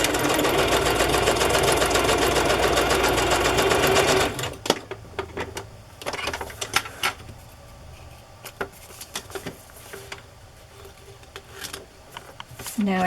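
A sewing machine stitches a pocket onto a rustic fabric journal, running steadily and up close for about four seconds, then stopping, followed by light fabric handling and scattered clicks.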